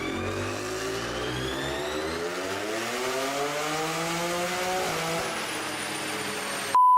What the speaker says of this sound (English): With this dyno, we are at full throttle to measure the car's horsepower and torque